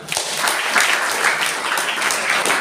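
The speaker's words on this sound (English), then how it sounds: "Big round of applause for him as well." Students and guests at a public school's tenth-grade AI program give a round of applause, a loud, close, continuous patter of many hands that holds steady throughout.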